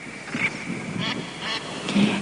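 A few short, raspy northern pintail duck calls repeat at a steady pace against faint background noise.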